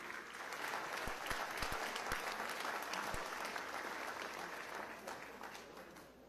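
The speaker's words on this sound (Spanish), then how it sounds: "Un gran aplauso para nuestros atletas venezolanos" Sustained applause fills a parliamentary chamber at Venezuela's National Assembly as lawmakers honour the country's athletes, a dense even wash of clapping at steady volume that thins slightly toward the end.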